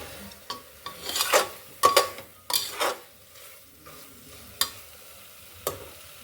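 Spices with Kashmiri red chili powder being stirred and fried in a pan with lentils, giving sharp scraping stirs and clinks of a utensil against the pot over a soft sizzle, close and fairly loud in bursts, no talking.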